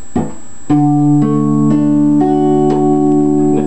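A guitar barre chord is strummed several times in a row, each strum ringing clearly with sustained tones, loud and close.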